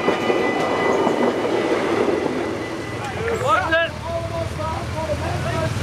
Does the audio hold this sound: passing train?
yes